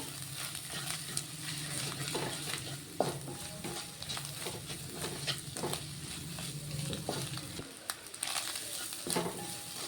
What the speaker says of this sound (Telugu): ఎగ్ అంతా ఫ్రై అయిపోయింది